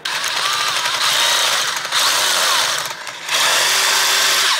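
A power drill bores out broken powerhead bolts on a 1987 40 hp Johnson outboard, whining loudly and steadily, briefly easing off twice before spinning back up, close by with no talking.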